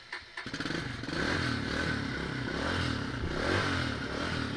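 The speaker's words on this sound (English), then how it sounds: "You can hear that one cylinder just pumping away." A single-cylinder dirt bike engine with no kickstarter cranks, catches, and settles into a steady, loud chugging idle close by, on a cold day.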